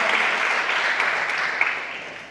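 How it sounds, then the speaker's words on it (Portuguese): A church congregation applauds during a Portuguese-language worship service, giving a steady, fairly close wash of many hands clapping throughout. "Dá um aplauso a Jesus aí."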